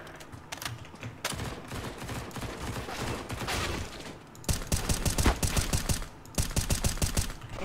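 Heavy automatic gunfire in CS:GO during a hacker-versus-hacker match, sustained bursts of rapid, loud shots with a brief pause, then more clustered volleys.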